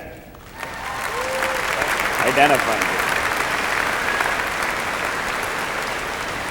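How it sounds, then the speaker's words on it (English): Applause at the University of Waterloo's 2013 engineering convocation starts after a quiet half second, then swells into a loud, steady roar of many hands that holds to the end, with a brief spoken phrase and a voice heard within it. "let's give a nice round of applause to Jeff McBoyle, who's the provost of the university"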